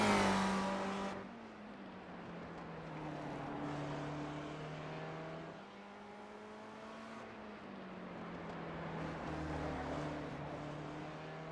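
A race car in a sim racing game lapping the Detroit Belle Island track, its engine droning and shifting pitch as it accelerates and changes gear, steady and fairly close.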